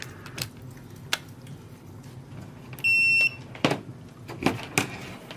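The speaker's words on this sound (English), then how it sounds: "little beep confirmation, little triple beep confirmation" Short electronic beeps from a Tesmen TCM-300D AC/DC clamp multimeter, including a steady tone of about half a second among a few brief clicks and chirps. They sound close by and fairly quiet, with no talk.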